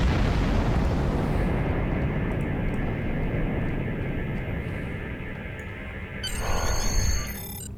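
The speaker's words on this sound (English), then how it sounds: "Put some distance between yourself and exploding ships." Ships exploding in the space combat video game Star Trek Online, a loud sustained rumbling blast that slowly fades, with a fresh burst near the end.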